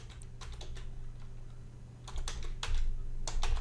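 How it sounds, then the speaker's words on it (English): Typing on a computer keyboard, a quick scattering of crisp key clicks in short bursts over a low background hum, close and quiet, with no talking. "go ahead and type in pop-up manager"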